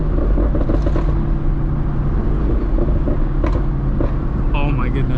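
Supercharged Ford Mustang GT engine rumbling loud and steady on a first drive, with a few sharp exhaust pops breaking through near the end and a voice talking over it.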